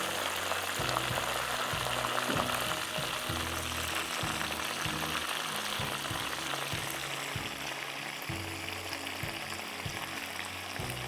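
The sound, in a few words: butterfly prawns frying in oil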